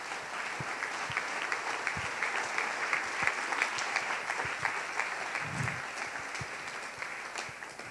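Worshippers at a Sunday church service applaud together for nearly eight seconds, a close, crowded rattle of clapping that stays even, with a few sharper individual claps standing out from the mass.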